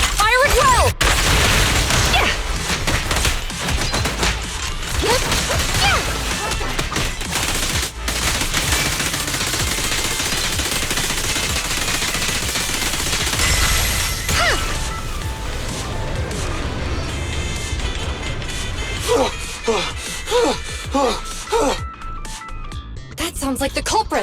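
Sustained volley of gunfire in the video game Zenless Zone Zero, dense rapid bursts and crashes roaring loud and continuous, thinning into scattered impacts near the end, with voices heard over the shooting.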